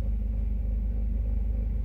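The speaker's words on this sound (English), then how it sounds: "It's the snow trucks passing." Snow trucks pass outdoors with a steady, heavy low rumble of engines and road noise that stays even throughout.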